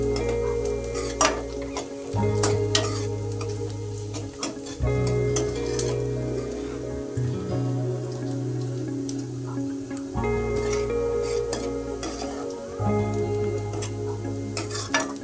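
Onion, garlic and chili fry on a low flame with a loud, steady sizzle, while a spoon stirs and taps the pan in repeated clinks and scrapes throughout.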